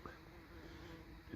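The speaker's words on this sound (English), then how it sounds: "I can't bring myself to cutting the flowers down whilst these bees are just going mad for them" Bees buzz around lavender flowers in a garden, a faint steady hum close to the microphone, brief and quiet.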